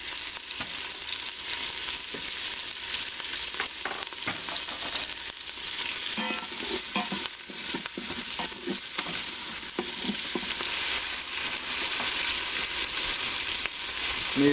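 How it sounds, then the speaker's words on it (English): Onions fry in an Instant Pot with a steady bright sizzle while a plastic spoon stirs and scrapes the pot in irregular strokes, close and continuous throughout, with no talking. "As the onions cook, they will release water, and that will help with the deglazing process."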